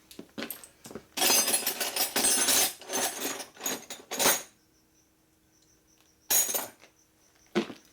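Metal wrenches clatter and clink as a hand rummages through a pile of them in a workshop during a Harley S&S 113ci Evo motor repair, with bursts of jangling separated by a quiet pause and a final short clink.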